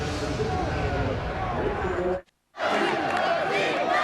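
Loud football crowd roaring and cheering at the 2003 Mitchell Bowl, McMaster against Laval tied 29-29, with a steady dense wall of voices that drops out briefly partway through before surging back.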